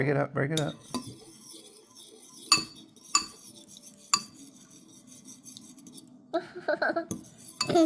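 A fork clinks and taps against a bowl while a child whisks eggs, giving irregular sharp metallic knocks separated by pauses, with quieter scraping stirs between them and a brief cluster of rapid clatter near the end.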